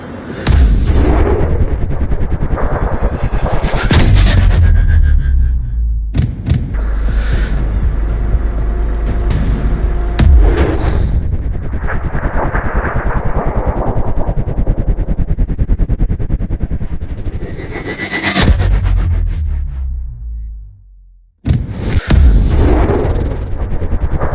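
Sniper rifle fire in the video game Sniper Ghost Warrior Contracts: several heavy, booming shots spaced many seconds apart, each ringing out into a long rumbling tail, loud and close, with a brief drop to silence near the end.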